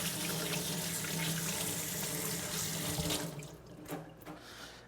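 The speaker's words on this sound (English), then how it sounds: "I'm gonna wash my hands." Tap water runs steadily into a sink for hand washing, a close, even rush that breaks up after about three seconds into softer splashes as the hands move under the stream.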